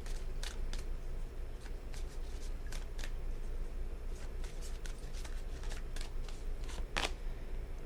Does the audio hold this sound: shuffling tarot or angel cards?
yes